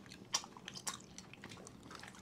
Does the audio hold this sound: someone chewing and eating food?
yes